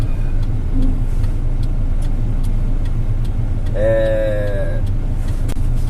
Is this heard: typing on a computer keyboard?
no